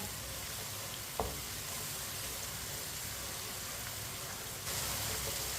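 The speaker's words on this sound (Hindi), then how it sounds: "ऐसे ही चम्मच चलाते हुए 2 मिनट के लिए पकाना है टमाटर को।" Tomatoes cooking in a pan for a tinda vegetable curry, a soft continuous sizzle with one brief spoon knock near the start and the frying growing slightly louder toward the end, no voices.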